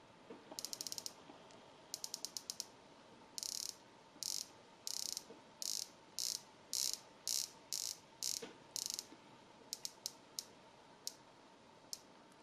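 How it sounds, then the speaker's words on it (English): A wristwatch bezel turns with crisp, close ratcheting clicks. They come in quick rattling runs and then in separate spaced clicks, heard alone against a very quiet background. "This is one of the smoothest bezel actions I have ever seen."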